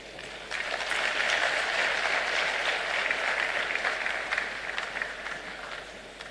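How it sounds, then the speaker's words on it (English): Sustained audience applause at a live public event honoring an official, a dense steady wash of many hands clapping that swells in after a brief pause and holds for several seconds before easing slightly. "Another round of applause for Honorable Alex Segbefia."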